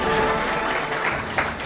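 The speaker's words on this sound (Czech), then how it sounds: "Potlesk také pro Mazdu." Brief applause from the audience at a fleet car awards gala follows the announcement of the Mazda CX-5 as a winner, a short, even patter of clapping at moderate level.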